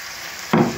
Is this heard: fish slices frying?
yes